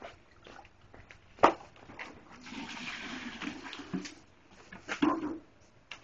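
Water is poured onto a goat fermented feed mix of banana stems, dry jackfruit leaves and dry corn leaves, giving a faint, soft splashing wash over several seconds with a few small knocks.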